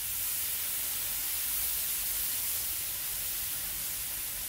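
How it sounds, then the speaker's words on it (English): Steam and sizzle rising off a cooking griddle after a cook with fat on it, a steady, even hiss that holds for several seconds with no talking. "A little steam."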